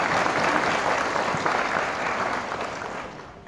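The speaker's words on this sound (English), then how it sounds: "give yourselves a ginormous round of applause" A graduating class and crowd at a 2021 graduation ceremony applaud in a dense, steady roar of clapping that starts loud and tapers slightly toward the end.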